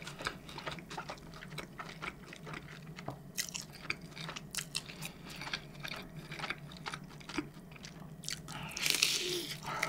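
Someone bites and chews Chicago-style pizza up close, with soft, wet chewing and repeated small crunches throughout.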